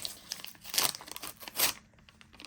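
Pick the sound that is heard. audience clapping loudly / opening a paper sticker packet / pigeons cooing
opening a paper sticker packet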